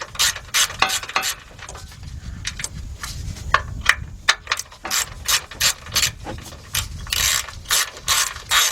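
Ratchet wrench clicking in quick bursts while loosening a 13 mm fitting on the fuel filter of a Chevy Tahoe, Yukon or Escalade, close-up and crisp with short pauses between runs of clicks.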